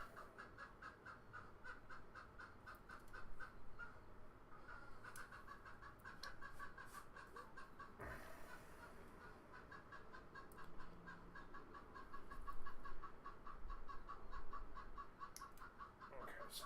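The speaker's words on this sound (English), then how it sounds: "There's a chicken outside having a fucking conniption." A chicken clucks and squawks agitatedly just outside a window indoors, a steady run of repeated calls at moderate distance, fairly faint under the room's low background.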